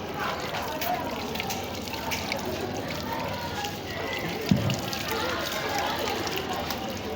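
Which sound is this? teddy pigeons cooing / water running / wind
water running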